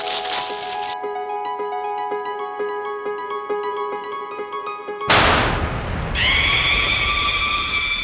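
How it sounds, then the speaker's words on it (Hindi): A small firecracker bursts inside a gift box in a home sitcom scene, a loud sudden crack and noisy rush breaking over a steady musical tone, followed by a ringing, sustained tonal wash. "मैंने दुकान वाले से कहा था एक छोटा सा पटाखा रख देना"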